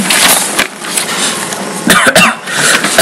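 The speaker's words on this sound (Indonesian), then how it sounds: "sebentar, maaf saya batuk." A few sharp coughs break out over a steady noisy background, close and fairly loud, with short bursts clustered near the middle of the clip.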